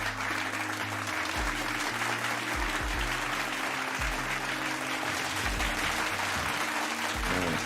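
Round of applause for a producer, steady clapping held throughout over a background of low rhythmic thumping music.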